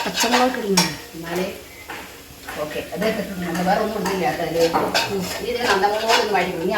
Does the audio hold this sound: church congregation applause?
no